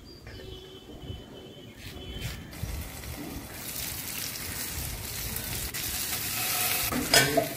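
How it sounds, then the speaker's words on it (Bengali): Fish tikka pieces fry in a pan with a steady, close sizzle and crackle throughout, growing slightly louder toward the end with a few sharper pops near the finish. "এইভাবে প্রত্যেকটা সাইডগুলো ভালো করে ভেজে নিতে হবে, লাল লাল করে।"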